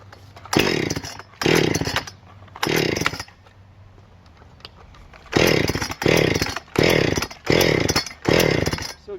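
A chainsaw cuts a thin dead tree in short, loud revving bursts: three bursts, a brief idle pause, then five more in a steady rhythm, close by.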